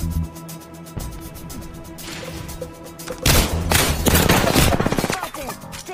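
Gunfire in the Apex Legends battle royale game, rattling bursts of automatic shots and impacts building to a loud close volley, mixed with game music and in-game voice callouts.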